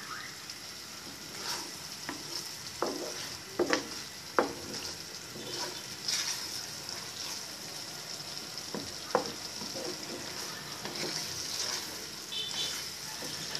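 Sweet and sour chicken sauce thickened with cornflour, stirred in a pan, a quiet bubbling sizzle with scattered scraping strokes of a spoon against the pan, no voices.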